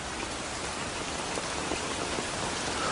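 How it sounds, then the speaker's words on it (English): Steady rain falling on a wet day, a dense, even hiss of drops filling the whole stretch with no voices over it. "'Tis a wet day and no mistake."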